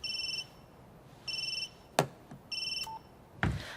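A telephone rings in repeated electronic bursts with short pauses between them, clear and moderately close, while a few sharp knocks and clunks fall in the gaps.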